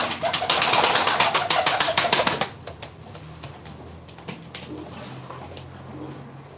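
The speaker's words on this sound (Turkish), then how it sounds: "Yeni kuşlar, yeni heyecanlar." A quick flurry of fluttering wing beats, then soft low pigeon coos murmuring quietly in the background.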